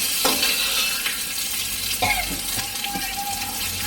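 Mustard seeds and onion frying in hot oil, a steady broadband sizzle with a few sharp crackles and pops over a faint background hum, close by and fairly loud throughout.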